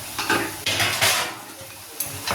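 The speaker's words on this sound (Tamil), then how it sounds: "உப்பு போட்டு நல்லா கிண்டி விட்டுறோம்" A spatula stirs a spinach stir-fry seasoned with salt in a pan, giving close, loud metallic scrapes and clinks in several quick bursts over a light sizzle.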